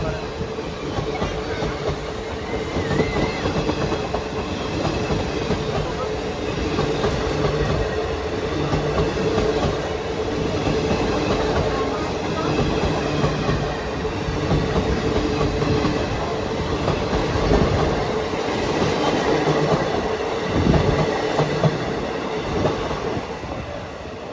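A Coimbatore-Shornur MEMU passenger train rolls along at speed, with a constant loud rumbling roar, rhythmic clickety-clack of wheels over rail joints and occasional squeals, heard from inside throughout.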